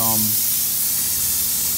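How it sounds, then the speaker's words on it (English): Bleach solution blasts from an X-Jet nozzle on a pressure washer during a large wash job, a loud continuous broadband hiss right up close after a brief voice at the start. "My guys right here is about to spray a little bleach solution with our X-Jet nozzle"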